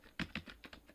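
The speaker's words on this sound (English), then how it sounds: "I'm typing." Typing on a computer keyboard while entering a Python program, about six quick, close key clicks in an irregular rhythm, fairly quiet and with no talk over them.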